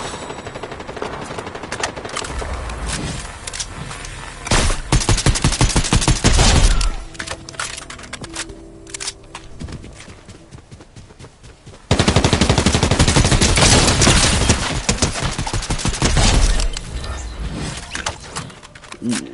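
A deployed turret fires in a video game in rapid automatic bursts of gunfire. The loud volleys come in two main stretches with quieter scattered shots in between.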